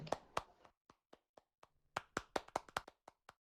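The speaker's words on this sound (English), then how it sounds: "A round of applause for him." Sparse, irregular hand claps from a small group, scattered sharp smacks rather than full applause, with brief quiet gaps between them.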